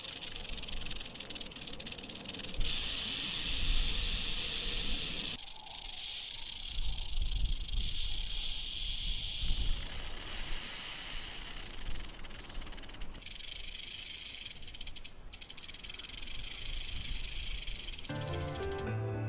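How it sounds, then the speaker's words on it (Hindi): A rattlesnake's tail rattle buzzes in a dense, continuous hiss-like rasp, shifting in intensity and breaking into brief pauses, close and loud throughout with no talk. "तो अब मैं आपको सुनाता हूँ रेटल की आवाज"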